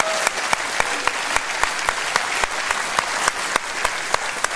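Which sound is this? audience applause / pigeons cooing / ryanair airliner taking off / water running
audience applause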